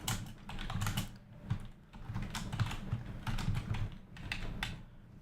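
Rapid typing on a computer keyboard while writing a C program, bursts of close key clatter with short pauses, no speech.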